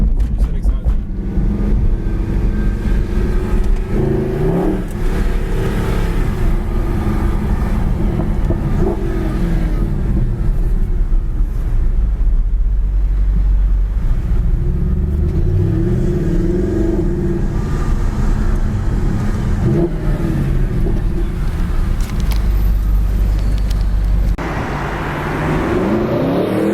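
Mercedes SLS AMG engine roaring loudly while accelerating, with repeated rising revs broken by quick gear shifts, heard from inside the car as a steady powerful drone over road noise.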